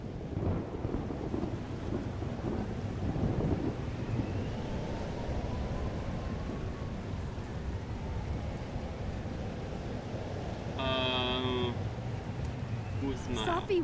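Deep, rolling thunder rumbles through a steady wash of rain in a stormy scene from the video game Life is Strange Double Exposure, continuous and loud for the whole stretch, with a brief higher-pitched sound near the end.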